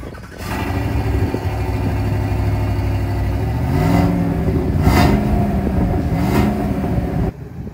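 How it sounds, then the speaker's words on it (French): A GMC Sierra pickup's V8 engine turns over and runs loud, holding a heavy rumbling idle before swelling in several revs near the end, then cutting off abruptly. "Je vais le démarrer et vous allez entendre le bordel que ça fait."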